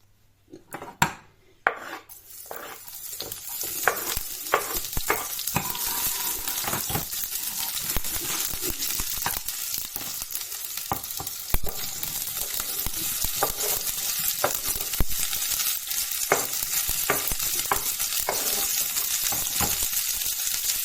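Pork and bell peppers stir-frying in a hot pan, a steady loud sizzle throughout with frequent clinks and scrapes of a utensil against the pan, close and alone with no talk.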